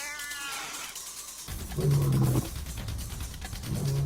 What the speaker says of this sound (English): Take a close look at the cat.